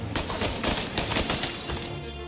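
Rapid bursts of gunfire from the video game Mafia: Definitive Edition, several shots cracking loudly in quick succession and almost filling the short stretch.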